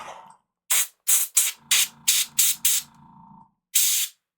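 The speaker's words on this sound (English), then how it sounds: "Could also be maybe the angle I'm spraying it at." Airbrush spraying primer onto miniatures in short, repeated bursts: seven or eight sharp, loud hissing puffs with brief gaps, a steadier faint hiss running underneath, and a final burst after a short pause.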